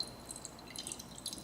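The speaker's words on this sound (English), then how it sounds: "So I'm just going to gently turn the tap And you can see the water draining into this bowl." Water trickles from the tap of an air still used for making essential oils, draining into a bowl with soft, close drips and light splashing for a moment, no voices.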